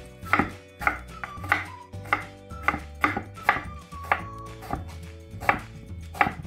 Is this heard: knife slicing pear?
yes